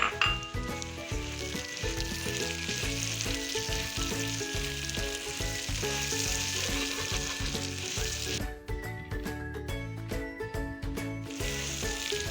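Onions sizzle loudly frying in a hot pan for lentil soup, a dense continuous crackle with occasional stirring scrapes, close up and without speech.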